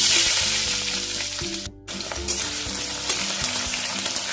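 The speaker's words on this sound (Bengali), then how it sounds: "সর্ষের তেল দিয়ে দিচ্ছি, গোটা গরম মশলা ফোড়নে দিয়ে দিচ্ছি, একটা পেঁয়াজ কুচি করে রেখেছিলাম দিয়ে দিলাম।" Chopped onion and whole garam masala spices hit hot mustard oil in a pan, throwing up a loud, dense, continuous sizzle with crackly stirring, briefly cut off for a split second before resuming.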